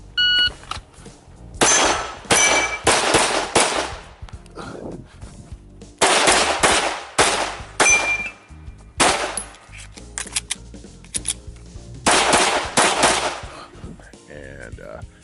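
Pistol shots ring out on an IDPA match stage. They come in rapid strings of loud, sharp cracks separated by short pauses, with a few metallic clangs and beeps between strings.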